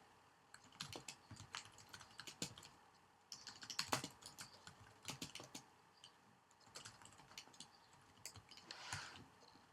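Typing on a computer keyboard while writing a WordPress category description: faint, close clicks in quick irregular bursts with brief pauses between words.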